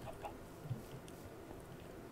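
Chickens cluck faintly in the Minecraft video game, with a few soft scattered clucks over a low background.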